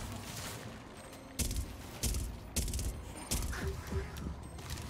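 A gun fired in a video game, about five short, loud bursts of gunfire spaced roughly half a second apart over a low, noisy game background.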